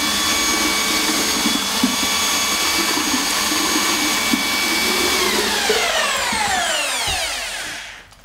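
An electric paddle mixer churns plaster in a bucket, a loud, steady whining whir with scraping, then winding down and falling in pitch as the motor stops at the end.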